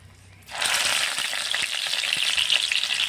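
Bitter gourd slices drop into hot mustard oil and break into a loud, steady frying sizzle that starts abruptly after a brief quiet moment and holds strong, with faint crackles throughout.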